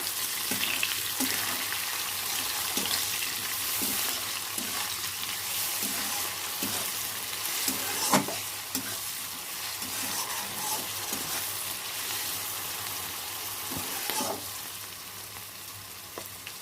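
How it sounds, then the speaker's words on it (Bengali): Capsicum fries in a pan with a continuous close sizzle and regular scraping stirs that repeat about once a second, with no talking. "ক্যাপসিকামটা দিয়ে দেবো। ভালো করে ফ্রাই করে নেব।"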